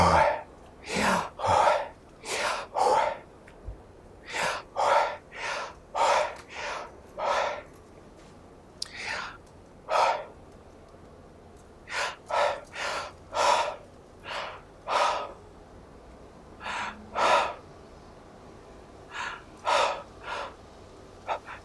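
A person imitates slow breathing with their voice, a long series of drawn-in and pushed-out breaths in a steady rhythm of about one per second, close and fairly loud, with no talking.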